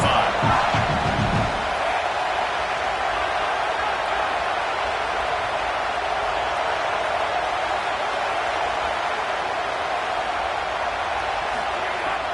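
A stadium home crowd roars during a Baylor versus South Carolina College Football 27 video game, producing a dense, continuous wash of cheering noise at a steady loud level with a few thuds near the start.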